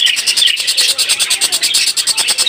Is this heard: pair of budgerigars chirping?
yes